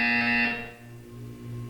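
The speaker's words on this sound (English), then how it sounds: "You will hear a buzzer." A loud electronic buzzer from the video game Portal 2 sounds alone, a harsh, bright tone that cuts off after about half a second, leaving a low steady hum.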